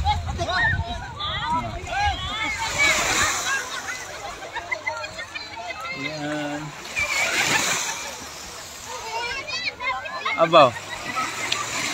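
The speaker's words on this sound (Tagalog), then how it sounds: "Oh, malakas yung alon." Strong sea waves splash and slosh against the shore at White Beach in Marinduque, a continuous rough wash of water. People talk and exclaim over it nearby.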